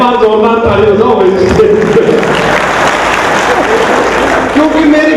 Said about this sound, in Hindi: एक बार जोरदार ताली हो जाओ भाई।